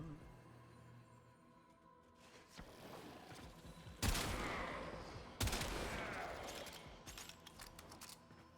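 Sniper rifle shots in the sci-fi game Warframe, two loud distinct blasts a second or so apart with decaying tails, over quieter game ambience and lighter clicks.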